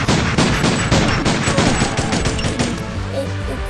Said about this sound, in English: I wonder how powerful this pixel pistol is.